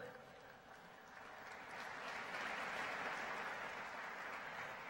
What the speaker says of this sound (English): One more round of applause for Jackie Johnson Powell.